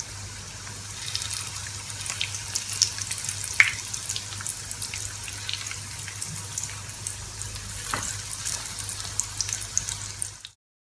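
Breaded bakery-style chicken cutlets fry in hot oil, giving a steady close hiss speckled with small crackles and pops that runs unbroken until it cuts off at the end.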